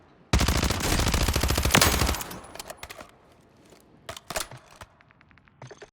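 Warzone weapon gunfire: a loud sustained automatic burst of rapid shots for about two seconds, followed by scattered softer single shots and clicks, with no talk over it.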